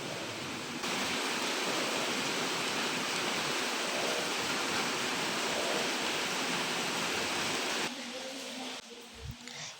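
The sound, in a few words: floodwater flowing behind a house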